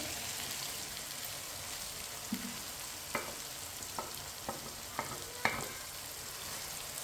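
Potatoes frying with peas and carrots in a pan give a steady soft sizzle, broken by a few sharp clicks and scrapes as a spoon stirs the mix, close and quiet, with no voices.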